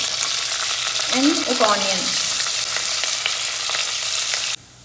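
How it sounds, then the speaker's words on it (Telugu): Onions sizzle in hot oil with mustard seeds, cumin, curry leaves and green chillies, a steady close crackle that runs throughout, with a brief spoken phrase over it before the sound drops off abruptly at the end. "ఆనియన్స్ కొంచెం ఫ్రై అయ్యాయి."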